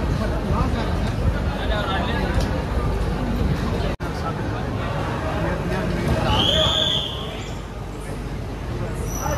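A crowded platform at Raichur Junction around 8 pm as a late train waits: dense, steady babble of many voices close by, with a brief sharp whistle-like tone partway through and a slight drop in the din near the end.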